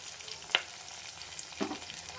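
Green chilies fry in a pan for Bombay chutney, a faint steady sizzle with two soft clinks of a spoon against the pan, close but quiet and with no talking.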